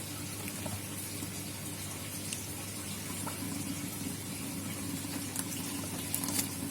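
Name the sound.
water pouring while watering banana plant in aquaponic container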